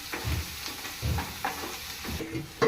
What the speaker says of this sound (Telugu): నెక్స్ట్ కొద్దిగా కరివేపాకు వేస్తాం. కొంచెం గోల్డెన్ కలర్ వచ్చే వరకు వేయించుకుందాం.